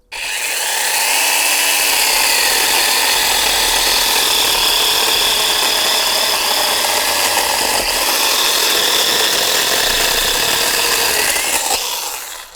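Leader 20V cordless chainsaw with a 10-inch bar running steadily, a loud, continuous high-pitched motor whine with chain rattle that holds for about twelve seconds, close to the microphone, with no talk.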